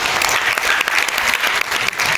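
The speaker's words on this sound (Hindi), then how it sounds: "उन सुंदर पाल सिंह बिष्ट और उनके साथियों के लिए जोरदार तालियां हो जाएंगे।" Loud, dense clapping from a crowd at the 18th foundation day gathering of the Akhil Bhartiya Uttarakhand Mahasabha, honouring Sundar Pal Singh Bisht and his companions, sustained and close throughout.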